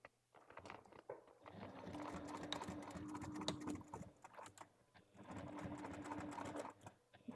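A sewing machine stitches a second seam along the outside of the first on a fabric bag, running in two steady bursts with a short pause between them, close and fairly loud.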